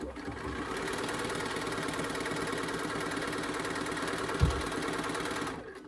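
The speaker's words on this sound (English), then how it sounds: "I'm just going to keep stitching using this as my guideline" A sewing machine stitching a placemat runs at an even, continuous whirring hum with a rapid needle rhythm, close and steady, with one small thump near the end.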